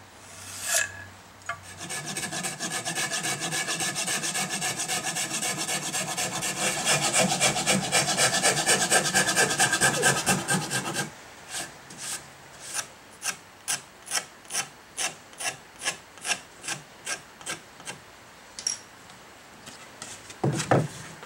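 Wood rasped off a Les Paul Junior style guitar body to shape an arm contour: a long continuous scraping rasp, then a series of short rhythmic filing strokes, close and alone.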